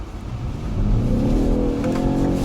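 A BMW 530e M Sport sedan pulls away and accelerates, its engine and drivetrain noise swelling steadily with a rising whir, heard from close by with no talking over it.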